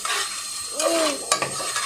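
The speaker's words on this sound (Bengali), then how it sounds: "আবার একটু নাড়াচাড়া করে দেব সুন্দর করে।" Chicken and tengra fish curry stirred in a pot after garam masala is added, with wet scraping and a soft sizzle across the whole stretch and a couple of sharper clinks from the spoon near the end.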